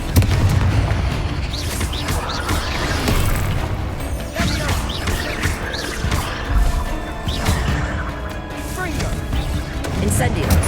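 A Confringo explosion spell going off in Hogwarts Legacy: booming blasts and crashing impacts in dense, loud layers of magical combat noise, with a voice talking over them.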